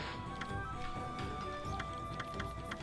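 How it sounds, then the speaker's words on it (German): Hooves clip-clopping from a horse in the Okami video game, a steady quick rhythm of soft thuds over a continuous game soundscape with faint musical tones. "Pferdchen!"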